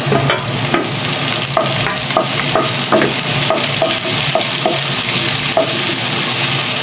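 Onion and garlic sautéing for Batangas-style lomi, a steady loud sizzle with repeated scraping stir strokes against the pan throughout, no voices.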